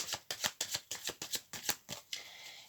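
A deck of cards shuffled for a card reading, about nine crisp riffling bursts in a quick steady rhythm, close and clear, ending in a short rustle.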